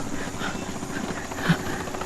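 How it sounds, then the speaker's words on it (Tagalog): A helicopter drones steadily overhead in a drama scene, a continuous low rotor rumble with a faint swell near the end, no talking over it. "Helikopter."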